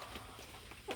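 A year-old chicken clucks faintly at a distance, with a short clucking call near the end.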